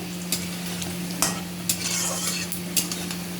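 Dried red chillies and panch phoron frying in hot oil with potatoes for khichuri, stirred with a utensil: a steady close sizzle with a low hum beneath and sharp scraping clinks at irregular intervals, no talking.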